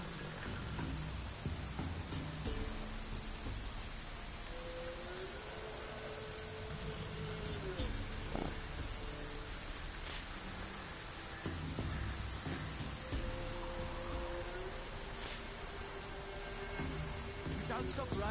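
Steady rain hisses in The Witcher 3, a broad wash of falling water with faint low rumbles, while a character's voice speaks briefly over it.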